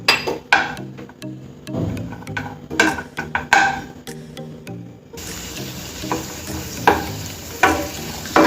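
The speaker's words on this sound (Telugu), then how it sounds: "కాజు కిస్మిస్ వేసి 1 నిమిషం పాటు వేయించుకోవాలండి" Cashews and raisins frying in a pan, with a steady near sizzle broken by repeated clinks and scrapes of stirring, then a brighter, continuous hiss in the second half.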